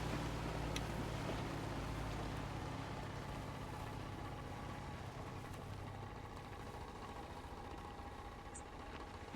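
Boat engine idling in the DayZ video game, a steady low rumbling drone with constant vibration throughout, fairly quiet and continuous with no speech.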